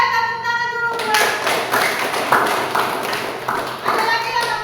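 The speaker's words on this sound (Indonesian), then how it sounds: "tepuk tangan dulu buat." Children clapping their hands together in a classroom-style religious lesson, rhythmic claps close to the microphone with young voices chattering alongside.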